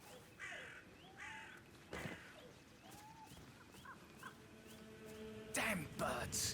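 Crows caw in a HITMAN game scene, a few harsh calls at moderate distance over a steady ambient bed, with a brief sharp noise burst near the start and more clatter toward the end.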